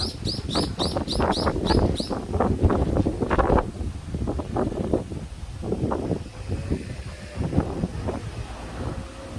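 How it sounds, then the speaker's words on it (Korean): Strong wind rushes past a large camellia forest in Sinheung-ri's camellia village, a steady blustery roar buffeting the microphone, with bright bird chirps repeating through the first two seconds. "이렇게 큰 동백나무 숲이 있기 때문에 바람이 엄청 부네요"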